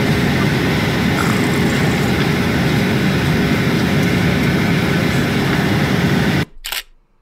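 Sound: airplane cabin engine noise during flight

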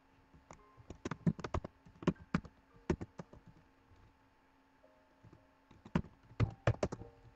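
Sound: typing a password on a computer keyboard

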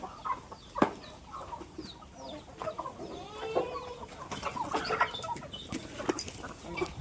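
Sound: brooding hens clucking

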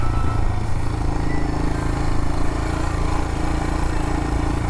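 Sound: Royal Enfield Himalayan motorcycle riding on a dirt trail

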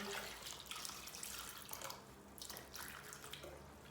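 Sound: water poured over potatoes in a pot

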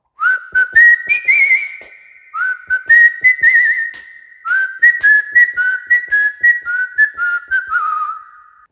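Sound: whistling the whistle portion of a film song

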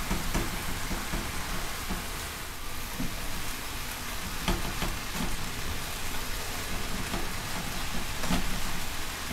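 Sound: beef and onion sizzling in a hot pan, being stirred

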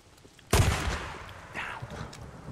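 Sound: gunshots from the video game Days Gone

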